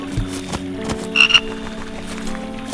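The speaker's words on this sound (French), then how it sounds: "Elle fait trop peur la grenouille." A frog in the game Creature Kitchen lets out one short croak, alone, among a few soft clicks and quiet background noise.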